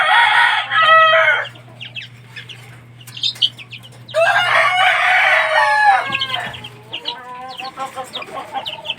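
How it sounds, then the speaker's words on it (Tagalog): Young gamefowl chicks and adult chickens in a yard, loud bursts of clucking and squawking from several birds close by, with quieter peeps in between and a low steady hum underneath. "Ayan ang bagong sisiw, guys. Wala pa yan silang isang buwan"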